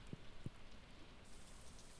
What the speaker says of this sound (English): And it's raining again, because of course it is.